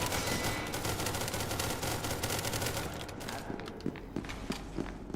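Rapid bursts of automatic gunfire rattle in SCP: Secret Laboratory, dense at first and then thinning into scattered single shots, with footsteps mixed in.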